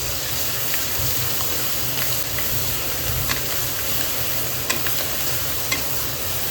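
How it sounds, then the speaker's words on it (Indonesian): Steady sizzling as spices for fried rice stir-fry in plenty of hot oil, with occasional light clicks of stirring, continuous and close without any talking. "Sekarang waktunya kita mau tumis bumbu untuk nasi gorengnya"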